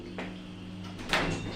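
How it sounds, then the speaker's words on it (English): Lift doors at the British Museum slide open with a soft mechanical rumble and a brief clunk, heard close and alone over low machine hum. "Doors opening."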